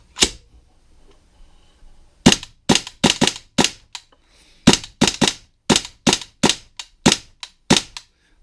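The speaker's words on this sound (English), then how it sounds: "So here's a test fire of my gun." A custom WE M4 airsoft gun is test fired indoors in rapid, crisp cracks, first one lone shot and then a dense run of quick bursts and single shots, loud and close.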